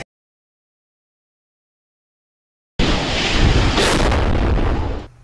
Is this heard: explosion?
yes